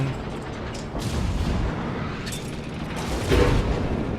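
Heavy battleship shells slamming into a Tier 8 Atago cruiser in World of Warships, a dense rumbling barrage of booms with a louder impact near the end, continuous and close.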